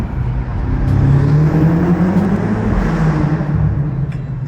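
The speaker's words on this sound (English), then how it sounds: "You can hear the intake's crazy." A sports car engine with a check engine light on roars loudly as it accelerates, its intake a deep, continuous rumbling whoosh heard from inside the car.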